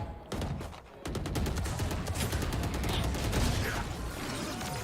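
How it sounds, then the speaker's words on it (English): Rapid gunfire in a Valorant esports match at a South Asia tournament final, with a burst of loud automatic shots and clattering weapon sounds, under a steady wash of game noise and no voices. "Good shot from Deadly."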